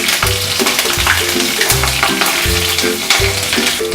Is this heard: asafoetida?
yes